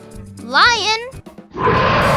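A lion gives a short, loud, rough roar that holds steady to the end, following a brief high voice at the start.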